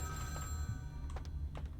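A telephone rings somewhere in a room in Vampire The Masquerade Bloodlines, the steady ringing tone faint and partly masked by a low background hum.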